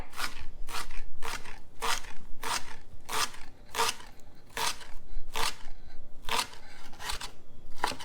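A chef's knife dices garlic on a cutting board, about a dozen crisp, evenly spaced chops sounding close and clear in a kitchen preparing Tuscan panzanella salad.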